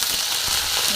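Curry leaves crackle and sizzle in hot oil over a ginger-garlic paste, cooking a dry cauliflower dish, a steady broadband hiss with a few soft pops, close and continuous for about a second.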